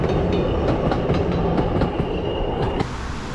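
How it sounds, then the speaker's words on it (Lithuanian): A small train rolls past with rhythmic clickety-clack wheel beats and a faint squeal from the rails, loud and close, then cuts off abruptly near the end. "Traukinukas."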